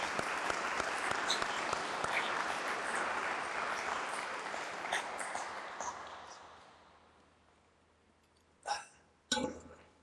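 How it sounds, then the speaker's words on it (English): Applause from a seated audience at a town's State of the Town address, steady and fairly distant, slowly fading out over several seconds, then a couple of brief louder bursts near the end. "I'd like to give a special round of applause to Mike Sheehan"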